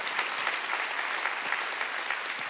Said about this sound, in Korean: 믿으면 박수로 하나님께 영광.